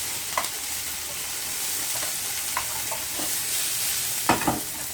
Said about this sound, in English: you want to sweat down the onion and the pepper for a few minutes